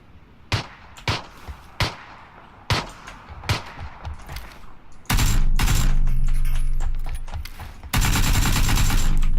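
AKM gunfire in PUBG: a string of sharp single shots at a fairly steady rhythm, then two loud sustained bursts of rapid automatic fire close by.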